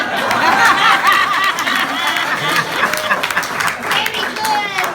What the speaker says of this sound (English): so you can clap for him